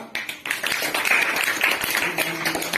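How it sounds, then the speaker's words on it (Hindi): Children clapping together to honour a headmaster at a school gathering, a steady dense patter of many small hands, fairly close, continuing for several seconds. "ताली बजानी बेटा"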